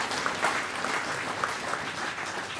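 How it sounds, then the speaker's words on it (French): Audience applause for the authorities at the closing ceremony of Congolese Tourism Week in Lualaba province, DR Congo, a steady wash of clapping held at an even level with no talk over it. "Si vous pouvez applaudir pour nos autorités."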